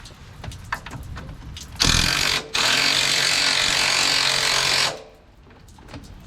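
A wrench breaks loose an upper shock mount bolt on a 1980-1996 Ford Bronco or F-150, giving a loud, harsh mechanical rattle lasting about three seconds with a brief break, between quieter stretches of workshop background.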